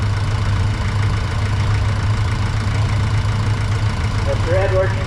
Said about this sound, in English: This John Deere tractor has an upright 2-cylinder engine and a foot